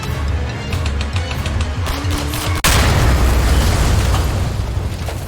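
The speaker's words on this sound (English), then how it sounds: "That was a pretty epic explosion." An explosion in a video game hits halfway through as a sudden loud boom, followed by a sustained roar over a continuous rumbling background.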